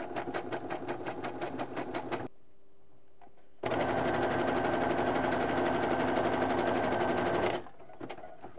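A sewing machine stitches elastic onto pin-up shaping panties, running loud and steady for a couple of seconds, pausing briefly, then running again for about four seconds before stopping.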